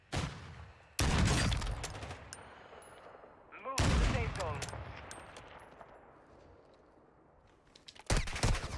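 Gunfire from Call of Duty Warzone on Ashika Island, including an MCPR-300 sniper rifle: sharp loud shot bursts crack out at about one, four and eight seconds, each decaying into echoing tails with quieter stretches between.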